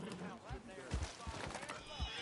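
A horse in Red Dead Redemption 2 whinnies amid the clip-clop of hooves, while someone talks over the game sounds.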